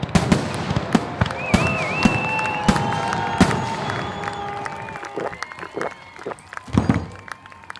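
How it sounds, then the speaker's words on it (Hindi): New Year's night fireworks and firecrackers go off repeatedly, sharp bangs and crackling pops with whistling rockets rising, while a crowd murmurs and voices call out in the background. "पटाखे किस बात के छोड़ रहे हो बे?"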